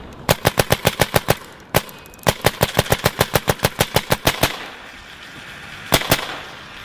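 Warped Sportz Dark LCD paintball marker firing through a chronograph: a rapid string of about ten sharp pops, a single shot, then another long fast burst, and two last pops after a pause, all close and loud.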